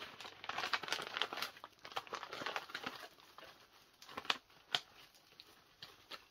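Dried djeka leaves are handled and crumpled by hand, giving dry crinkling rustles in uneven bursts that are close and fairly quiet, with no talking.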